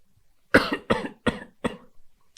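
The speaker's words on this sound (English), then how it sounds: "sorry about me coughing and coughing" Four sharp coughs in quick succession, loud and close, followed by a couple of softer throaty rasps, with silence around them.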